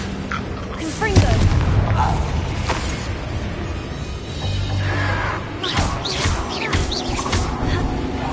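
Confringo blasting spell detonating in a Hogwarts fantasy video game, with repeated booming blasts and crackling bursts layered over game music, ambient effects and a voice talking throughout.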